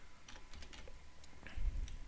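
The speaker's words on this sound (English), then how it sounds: "And then I will just type number" Keys clatter on a computer keyboard as text is entered into a Microsoft Word table, a steady run of quiet, close clicks that bunch together near the end with no talking.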